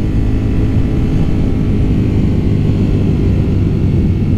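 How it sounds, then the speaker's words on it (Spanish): A Ducati Streetfighter V4S sport motorcycle engine gives a steady, loud roar with a deep low drone held constant throughout, no talking, running close by. "La moto de casa suena brutal, ¿eh?"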